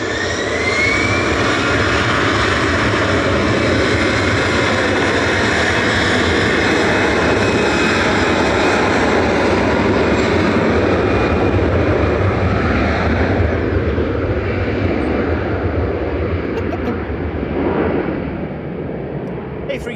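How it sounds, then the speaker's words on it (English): An EasyJet Airbus A320 Classic, registration G-EZRY, roars steadily at Manchester Airport, a loud sustained jet engine rumble with a rising whine that holds throughout and eases slightly near the end. "A320 Classic there for EasyJet with flight 2229, that's GZRY."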